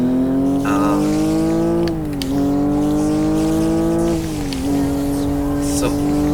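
Car engine in a driving video game, a steady loud revving drone that dips briefly twice as gears shift, then climbs again at speed, with someone talking over it.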